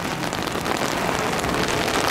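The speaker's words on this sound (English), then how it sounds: "Well, so much for not having much rain today." Heavy rain pours down at Tampa International Airport, a loud, dense, steady hiss of drops hitting the surface, close and continuous, with no voices.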